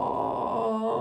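A person imitates a long, drawn-out yawn with a groaning voice while reading a children's story aloud; the sustained moan is steady and close, with no other sounds around it.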